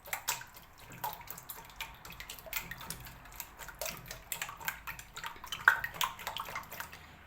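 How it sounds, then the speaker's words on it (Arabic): Eggs are whisked by hand in a bowl for a large batch of sweets, making rapid, light, steady ticking strokes that sound close but soft. "نخفق البيض ديالي"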